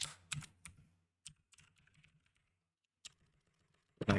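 Computer keyboard typing in short irregular bursts of clicks and key taps, close and fairly quiet, with pauses between keystrokes and no talking.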